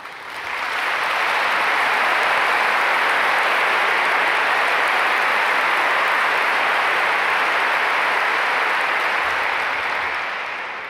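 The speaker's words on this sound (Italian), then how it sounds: "Grazie per il calore di questo applauso." An audience at a formal meeting with the Italian prime minister claps in sustained, dense applause that swells in, holds steady and loud, then eases off slightly toward the end.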